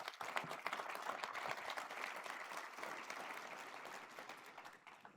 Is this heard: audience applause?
yes